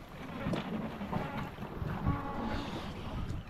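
A sailboat running under a lively wind along the coast of Sardinia, with steady wind rush buffeting the microphone and water splashing against the hull, a continuous close roar with irregular surges.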